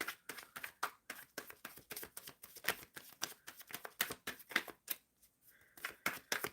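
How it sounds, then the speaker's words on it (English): Tarot cards are shuffled by hand close to the microphone, giving soft, quick riffles and taps in an uneven rhythm with brief pauses, quiet and alone. "Shuffling for Witchy."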